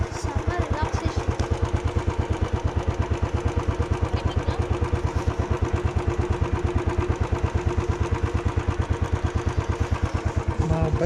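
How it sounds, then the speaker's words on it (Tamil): A motorcycle idles steadily near a dam viewpoint in Munnar before riding off, its low, even put-put pulse running unbroken and close throughout, with some mechanical clatter on top. "நான் பைக்கில் கிளம்ப போகிறோம்."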